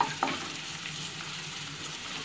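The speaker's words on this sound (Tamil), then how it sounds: "நல்லா மிக்ஸ் பண்ணிக்கோங்க" Prawn pepper fry sizzles steadily in a pan while being stirred, with a soft scrape of the spoon early on over the constant close crackle.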